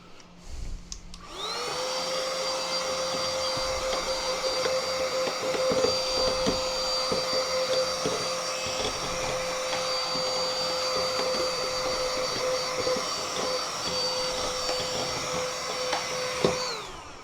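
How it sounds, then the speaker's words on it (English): A small handheld vacuum cleaner, fitted with a tube so it works as a blower, runs with a steady high-pitched whine and airy roar for over fifteen seconds, close and alone. "it's a Hoover on one end, and if you put a little cap on there, you get another tube, and it ends up being a blower"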